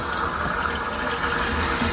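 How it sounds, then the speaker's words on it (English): Water pours steadily into jars of pears set in a canner for sterilizing, a continuous close rushing splash with no voices. "I add water and I will boil these for 10 minutes."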